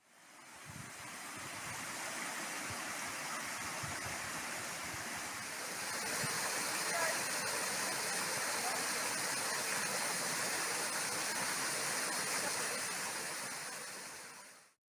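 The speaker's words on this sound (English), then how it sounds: "this little stream's turned into quite a waterfall" A small stream swollen by heavy rain pours as a waterfall in late-autumn woodland, a steady loud rushing roar of falling water that continues unbroken throughout, slightly swelling midway, with no voices.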